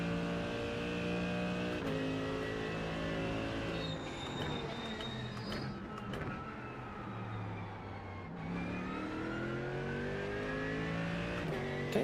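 A Mercedes race car engine revving in the iRacing sim, a steady loud drone that rises and falls in pitch as the car accelerates and shifts, continuous throughout with no talk.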